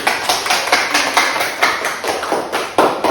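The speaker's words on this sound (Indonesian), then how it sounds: "Beri tepuk tangan untuk kelompok 1." A class of children claps for the first group in a school lesson, a fast, fairly even patter of hands filling the room at close range.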